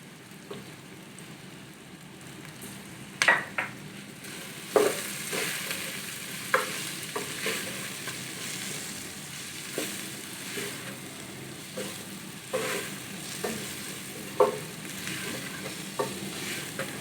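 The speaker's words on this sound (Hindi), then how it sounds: "अच्छी तरह से भून लेंगे।" Chicken macaroni masala fries in a pan with red chilli, salt and black pepper, a steady soft sizzle broken by repeated close clinks and scrapes of a spoon stirring.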